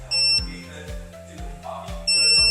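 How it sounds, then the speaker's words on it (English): An RFID tool bag sounds a missing-tool alarm: loud, steady high-pitched electronic beeping at the start and again at the end, with a speaking voice and low thumps heard between the beeps. "It's beeping. It means that I lost one of my tools."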